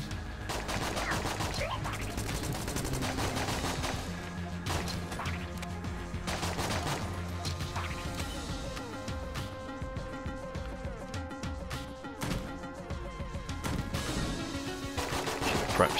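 Rapid, sustained gunfire from a Gatling gun in a video game, loud and continuous across the whole stretch with dense bursts and crashing impacts layered over a busy game soundtrack.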